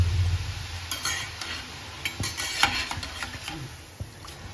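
Fine sev frying in hot oil in a pan, a steady soft sizzle with scattered metallic scrapes and clinks as a utensil stirs and turns it, close and without talk.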